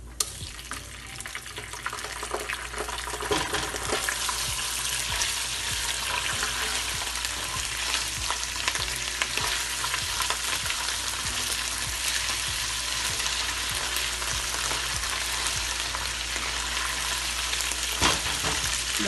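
Garlic and ginger fry in hot oil for Rampuri pulao, giving a loud, continuous sizzle with occasional stirring scrapes and spatters throughout, close up and without talk.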